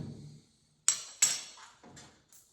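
Small bits of gravel and sand fall out of a part on a 1947 car. They make a few sharp, close clinks and rattling impacts spaced apart with quiet gaps between them.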